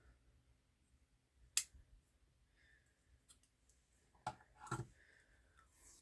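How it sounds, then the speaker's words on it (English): Scissors snip crochet yarn in a few faint, sharp clicks close by. The isolated cuts are separated by quiet pauses. "Now we can cut the yarn."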